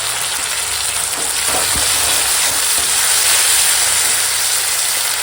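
Onion and chilli sizzling in hot oil, with chopped tomato and ginger-garlic paste added, making a loud, steady frying hiss close up that carries through the whole stretch without any voices.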